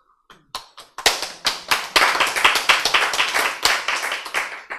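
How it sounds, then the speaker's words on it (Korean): People at a health lecture start with a few scattered claps that quickly swell into brisk, rhythmic group clapping, loud and close, lasting several seconds. "왜 박수를 쳤어요?"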